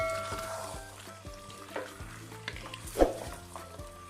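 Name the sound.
frying green chillies with potatoes and aubergine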